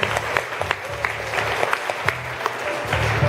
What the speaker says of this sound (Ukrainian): Давайте поаплодуємо.